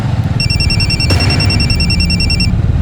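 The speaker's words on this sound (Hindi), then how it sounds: "तुम्हारा फोन बज रहा है।" A phone rings loudly in a repeating electronic ring pattern over a low steady hum, filling most of the short stretch, in a Crime Patrol crime drama scene.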